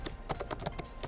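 A computer keyboard being typed on in a short burst of about eight separate keystrokes, close and crisp with slightly uneven spacing and no speech.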